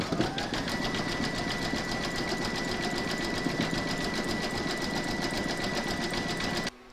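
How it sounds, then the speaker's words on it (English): An embroidery machine stitches a zigzag round over two raw edges of a large square scallop placemat, running loud and steady with a fast even needle rhythm that stops abruptly at the end. "Pop your hoop into your machine and stitch round number 6, and that's going to zigzag the two raw edges"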